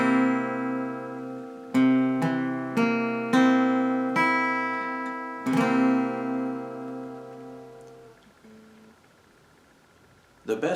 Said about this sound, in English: The new chord I want to show you here in Part 2 is called C7th or